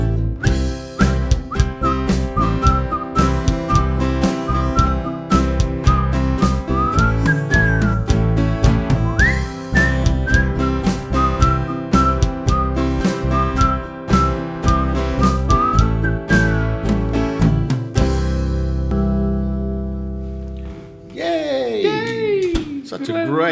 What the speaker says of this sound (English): Get your whistle out.